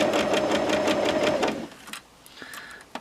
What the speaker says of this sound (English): Drop your needle and sew along your line to the corner of your underlying piece.